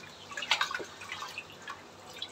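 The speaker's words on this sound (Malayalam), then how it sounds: "പയർ കഴുകുക," Beans being washed in water give faint splashes and a few soft drips close by, quiet and without talk.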